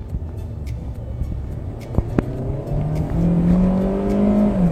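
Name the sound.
naturally aspirated car engine revving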